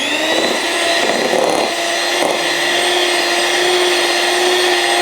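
A blender whirs steadily while mixing eggless honey cake batter at home, a loud, even motor drone with a couple of brief surges, running alone without talk.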